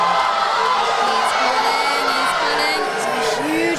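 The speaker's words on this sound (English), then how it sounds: "Huge amount of support from the crowd" A large crowd at a university powerlifting competition cheers and shouts in support of a lifter's attempt, a dense, loud, sustained roar with whoops and yells throughout, close and continuous.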